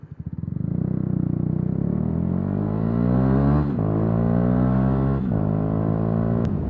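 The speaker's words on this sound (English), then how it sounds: "You're just building the revs back up for the gear when you get into it, so it makes it smoother." A motorcycle engine revs through clutchless gear shifts: the pitch climbs steadily, then drops sharply at each change, twice, before rising again. The sound is loud, close and alone.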